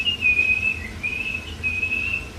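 A person whistles a tune in a kitchen, a clear, fairly faint high melody in sustained phrases over low background hum.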